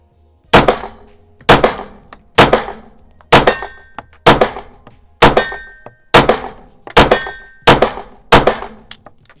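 Sig Sauer P226 S Sport compensated competition pistol fired in a quick string of about nine sharp, loud shots at a steady rhythm, each crack followed by a short ringing decay.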